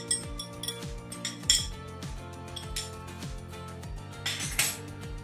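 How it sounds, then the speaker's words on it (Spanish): Small chopped meatballs are dropped and scraped into a pasta pan, making a run of light metallic clinks and spoon knocks against the pan over a faint low hum. "Y por último le voy a echar las albondiguitas chiquiticas que piqué"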